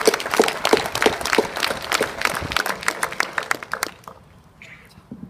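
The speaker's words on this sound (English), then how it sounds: "Let's get some applause for Turner." Crowd applause at a valedictorian speech: dense, steady clapping from many hands with a few louder near claps, running several seconds before thinning out and fading to near quiet at the end.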